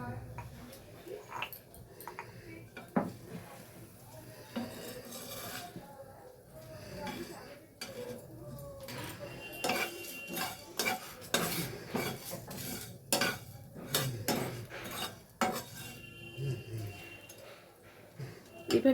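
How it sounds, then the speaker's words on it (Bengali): Spoon scraping and clattering in a pan while spices and chillies are stirred and roasted, irregular close metallic knocks and scrapes with someone talking over them. "এবার ভালো করে নেড়ে চেড়ে যতক্ষণ না সুগন্ধ বেরোচ্ছে ততক্ষণ নাড়তে হবে"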